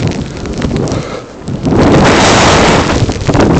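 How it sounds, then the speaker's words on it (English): A strong blizzard wind roars outdoors in Chicago, buffeting loudly and close with a broad rushing noise that swells and stays heavy. No one speaks. "the wind is gushing"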